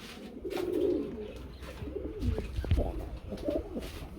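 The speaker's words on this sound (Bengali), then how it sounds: "আমরা এক জোড়া কালদম দেখতে পাচ্ছি" A pair of Kaldum pigeons coo in low, rolling phrases, close and moderately loud, over a murmur of other birds at a pigeon market.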